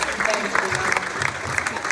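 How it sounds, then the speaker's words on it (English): A crowd applauds with brisk, continuous clapping, fairly close and lively, with some voices mixed in beneath. "How about another big round of applause?"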